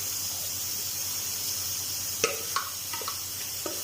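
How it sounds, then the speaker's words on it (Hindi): Chopped onion goes into hot cooking oil in a kadai, giving a soft steady sizzle with scattered crackles and pops that sharpen partway through. "ऑयल हमारा गर्म हो चुका है तो अभी हम इसमें डालेंगे चॉप किया हुआ प्याज"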